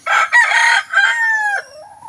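A rooster crows loudly and close by, a long drawn-out cock-a-doodle-doo with a falling end, followed by a brief quieter cluck.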